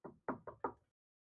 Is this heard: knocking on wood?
yes